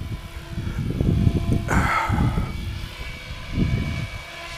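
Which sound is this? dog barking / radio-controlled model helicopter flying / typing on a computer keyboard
radio-controlled model helicopter flying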